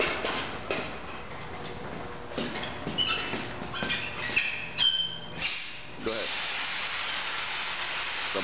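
Pneumatic tilt table with a retractable side clamp tilting upward, giving bursts of sharp compressed-air hissing and venting with clicks and mechanical knocks, close by, while a person talks over it.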